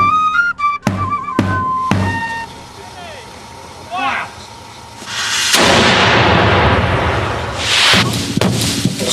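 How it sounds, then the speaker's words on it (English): A cannon at 250 feet fires in a science demonstration, booming among mechanical beeps and a long roaring, rumbling blast that builds and lingers loud through the latter half. "Time to wheel out the cannon."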